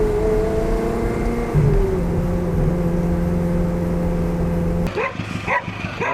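A car rolls slowly in a convoy with a steady low engine drone and road noise throughout, ending in a brief shift to rougher, choppier sound.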